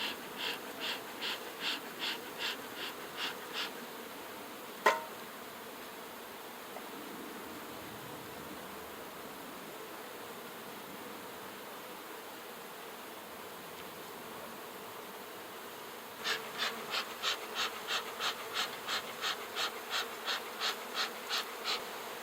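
Honeybees crowd the edge of a full hive box, their low buzzing steady throughout, while bursts of rhythmic pulsing run in two stretches at the start and end, broken by a single sharp knock.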